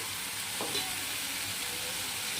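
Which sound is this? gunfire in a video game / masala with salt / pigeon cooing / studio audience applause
masala with salt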